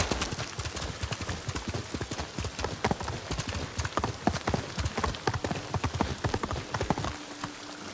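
A horse's hooves pound in a quick, steady gallop in the video game Ghost of Tsushima, loud and close, running for several seconds before stopping abruptly near the end.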